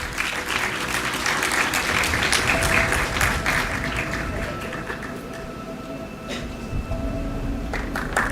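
A conference audience at an actuarial summit applauds steadily for several seconds, the clapping dense at first and then thinning out, with faint background noise underneath.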